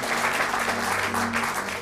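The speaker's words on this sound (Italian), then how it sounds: "facciamo un altro applauso al signor Giovanni" Studio audience applauding Mr. Giovanni on an Italian comedy show, a steady, dense wash of clapping throughout, with a faint sustained tone and a voice murmuring underneath.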